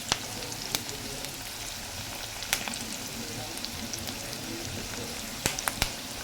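Curry leaves and ginger paste fry in hot oil in a pan, giving a dense, continuous crackling sizzle with scattered sharp pops. It is close and steady, with no talk.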